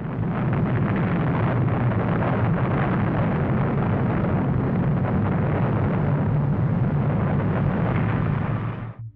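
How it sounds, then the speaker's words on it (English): A Mercury-Redstone rocket launches with a loud, sustained roar and rumble that fills the whole stretch and holds steady without a break before it cuts off abruptly at the very end. "As the morning came, the rocket launched."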